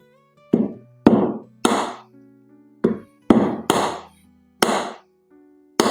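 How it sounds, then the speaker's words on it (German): Hammer crushing sloes for liqueur, eight sharp separate blows in an uneven rhythm, each a loud close thwack with a short ringing tail, separated by near silence. "Also ich mache das immer mit dem Hammer."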